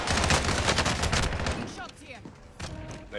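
Rapid gunfire from an online shooter game, Call of Duty's Alcatraz map, a dense loud burst of shots for about a second and a half, then quieter game noise with a brief voice.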